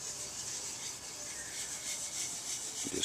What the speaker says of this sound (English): Put a little on the steel wool and circular scrubbing.